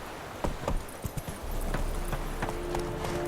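Hooves of a horse clip-clop in an irregular walking rhythm, moderately close, in the video game The Witcher 3. The hoofbeats sit over a soft background bed, with no talk.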